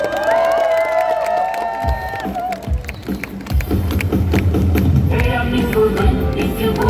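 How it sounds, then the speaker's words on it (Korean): Crowd at a Gwangju campaign rally in a public plaza, with loud cheering and shouting swelling into sustained applause and a clatter of clapping. A tonal chant sounds briefly at the start before the crowd noise takes over. "힘찬 박수와 함성으로 맞이해주십시오."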